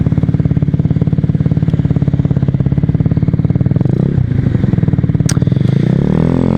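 A Honda Zoomer scooter fitted with a GY6 150cc engine putters along steadily while being ridden, its engine pulsing loud and close, rising slightly near the end, with no speech.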